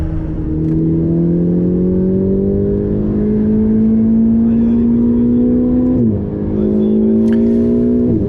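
A Ferrari 488 GTB on the Le Mans 24-hour grand circuit roars from inside the cabin, engine tone climbing steadily under load, dipping briefly at a gear change, then pulling up again, loud and constant.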